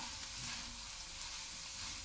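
Onions being stirred into carrots, potatoes and other vegetables frying in a pan, giving a steady, close sizzle with soft stirring scrapes throughout, no talking.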